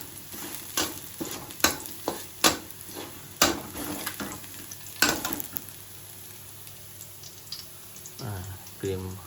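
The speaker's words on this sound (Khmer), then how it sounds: "យើងដាក់ខ្ទឹមស យើងលីងជាមួយខ្លាញ់ជ្រូកទៅមកធ្វើការឆាវាឲ្យជាវតិច" Garlic stir-frying in pork fat, with a soft sizzle under repeated sharp scrapes and clacks of a utensil against the pan, then a brief low clatter near the end.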